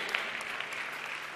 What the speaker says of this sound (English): Clap your hands together for Jesus.